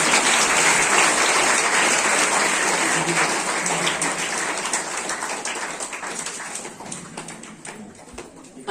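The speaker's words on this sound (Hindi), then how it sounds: "जोरदार तालियां।" Audience applause at a Diwali celebration at a community center, a dense, loud burst of clapping from many hands that slowly thins out and fades over several seconds.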